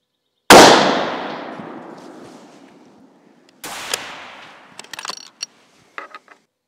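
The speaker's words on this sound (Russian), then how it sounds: "Проверочный выстрел финальный." One loud, sharp rifle shot cracks and echoes away over a few seconds during sighting-in at a shooting range, followed by a second muffled report and metallic clicks of the action.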